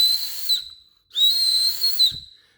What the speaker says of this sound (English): attached to the other end is a survival whistle. So and it's pretty loud